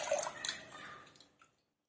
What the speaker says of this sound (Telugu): తీసుకొని వాటర్ అంతా అందులో వేసేసుకుంటున్నాను